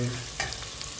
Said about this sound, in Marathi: कांदा परतायला टाकलाय, टाकून घेऊया।